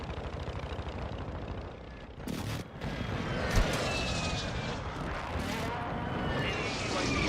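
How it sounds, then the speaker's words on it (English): Call of Duty Modern Warfare II airstrike: a dense roar of jet aircraft and rumbling blasts fills the whole span, with sharp bursts near the start and middle, loud and continuous. "Friendly airstrike in the AO."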